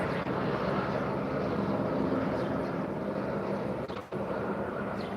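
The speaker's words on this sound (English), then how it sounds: "This helicopter is distracting me." A steady, droning engine roar from an aircraft hangs overhead for the whole stretch, with a brief dip near the end and no clear talking.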